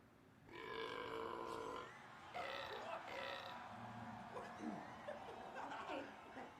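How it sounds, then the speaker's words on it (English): Loud, drawn-out belches from a burping contest, two long rasping burps in a row followed by lighter grunting and chuckling sounds. "are we listening to burping contests?"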